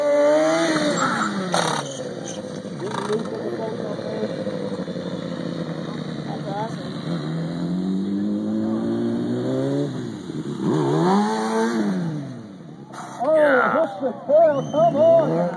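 A 400-pound motorcycle engine revs again and again in rising and falling sweeps during a stunt show, with a loud announcer talking over it throughout.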